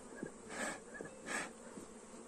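Apis honeybees buzz around a hive being split and smoked, a steady hum with louder swells as bees fly close past, nearby and continuous.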